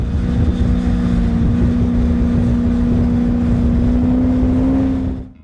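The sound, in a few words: Lazareth LM847 motorcycle 4.7-liter V8 engine running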